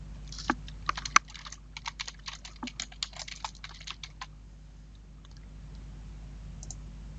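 Typing on a computer keyboard while adding a heading to a document template: a run of close, crisp key clicks with a few louder taps early on, thinning out and falling quiet toward the end.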